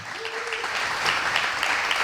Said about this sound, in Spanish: yo pediría un fuerte aplauso y este pequeño detalle para él.